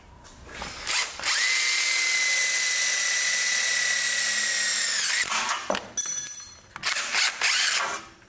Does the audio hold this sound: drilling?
yes